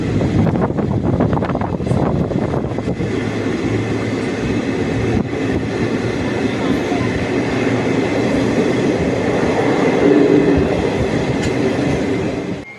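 A passenger train pulling into Thanjavur junction station, with a continuous loud rumble and rattle of railcars and wind buffeting throughout, easing slightly toward the end.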